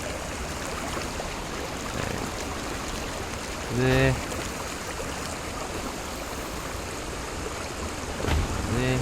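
Steady rush of flowing river water in Conan Exiles, a broad continuous wash that runs the whole time beneath a brief spoken phrase and a couple of short tonal game cues.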